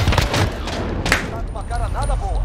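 Gunfire in the Call of Duty Warzone video game, a few sharp shots popping near the start and middle beneath steady game ambience, with people talking over it.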